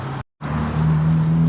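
Steady car and road-traffic rumble on a busy street in Malaysia, briefly cut off, then returning as a continuous near drone of vehicles.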